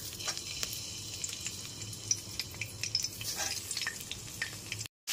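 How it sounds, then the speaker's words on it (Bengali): Salt- and turmeric-coated pointed gourds dropped into hot mustard oil, a light crackling sizzle with scattered pops and spatters, close and moderately quiet, cutting off abruptly at the end. "এরপর এতে লবণ আর হলুদ মাখানো সমস্ত পটলগুলোকে দিয়ে দিচ্ছি।"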